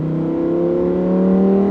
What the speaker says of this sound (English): But if you want, click the valves open.